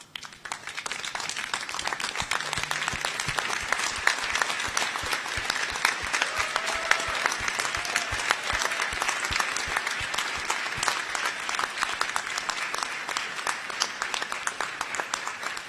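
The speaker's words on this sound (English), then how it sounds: "express your gratitude by a round of applause" Large audience at a university graduation ceremony breaks into sustained, dense applause that fills the whole stretch at steady loudness, many hands clapping together with no pause.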